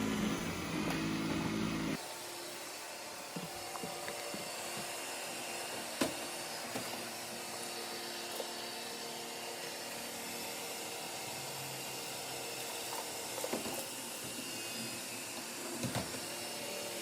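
A Dreame W10 robot vacuum mop runs while mopping with wet pads pressed to the floor, a steady whirring motor drone that shifts tone after the first couple of seconds and continues evenly with faint bumps.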